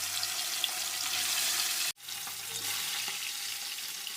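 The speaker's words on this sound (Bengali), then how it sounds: "এখন তেল ভালোভাবে গরম হয়ে এসেছে। এবারে এতে দিয়ে দিচ্ছি লবণ হলুদ দিয়ে মাখানো" Fish heads coated in salt and turmeric fry in hot oil for a mung dal dish, giving a steady close sizzle that cuts off sharply partway through and then resumes more quietly.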